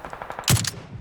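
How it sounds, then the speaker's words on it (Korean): A single muffled shot from a suppressed rifle in a video game, with a sharp crack and low thump, standing out clearly over quiet background game noise. "이게 에미사 소음기 소리거든요"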